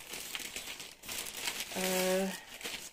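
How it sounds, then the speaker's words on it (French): A parcel being unwrapped, with crinkly packaging rustled and torn in uneven bursts, close and moderately loud, while a brief voiced tone sounds partway through. "c'est gai de déballer le colis comme ça"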